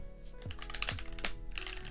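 Typing on a keyboard fitted with Ctrl-T Deep Sea keycaps, a quick run of close, crisp keystroke clacks in an uneven rhythm, heard alone.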